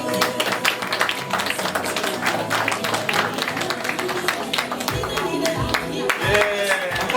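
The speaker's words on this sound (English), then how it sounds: "So we shall give them a handy clap just one more time." Audience at an optometry week dinner clapping, a dense stream of many sharp hand claps filling the room steadily for several seconds, with some crowd murmur underneath.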